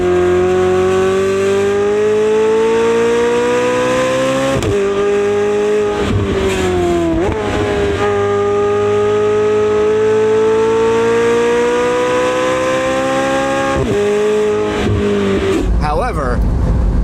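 Lamborghini Revuelto and McLaren 750S racing, with a loud, sustained engine roar climbing in pitch as the cars accelerate, broken by several gear shifts that briefly drop the note before it rises again.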